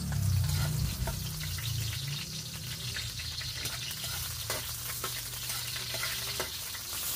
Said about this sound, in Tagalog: Igigisa ko na ang sibuyas.